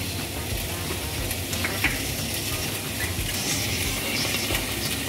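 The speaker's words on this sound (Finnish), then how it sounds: "Se alkaa pikkasen niinku kihelmöimään toi pekoni ylös." Bacon sizzles and crackles steadily in a carbon steel pan while pasta carbonara is being made, with a dense, continuous hiss and no talking.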